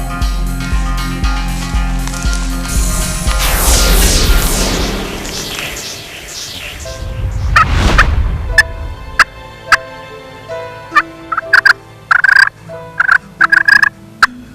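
A wild Osceola turkey gobbles on a foggy Florida morning, repeated loud, ringing gobbles near the end following a rushing whoosh and low rumble, with no talking.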